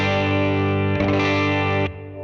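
An electric guitar through a Fender Mustang GT amp with reverb plays a sustained, heavily processed chord that rings loudly, swells briefly mid-way, then cuts to a softer lingering reverb tail.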